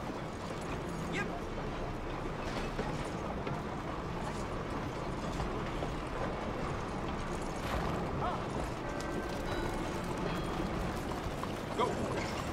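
Horse hooves clip-clopping in the video game Red Dead Redemption 2, a steady soft patter beneath a dense, constant bed of ambient game noise, with talk mixed in.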